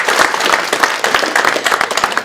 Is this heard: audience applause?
yes